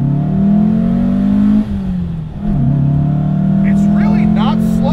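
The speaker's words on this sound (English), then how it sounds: "I'm going to just go flat through the gears." A modified 1968 Porsche 912 accelerates flat out through the gears, its flat-four engine rising in pitch, dipping briefly at each shift, then climbing again loudly up close while a person talks over it.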